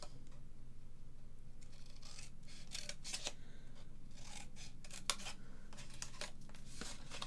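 Scissors snip through paper, cutting from the corner to shape a three-tier gift box; a run of short crisp cuts and rustles, close and moderately faint, with no talking.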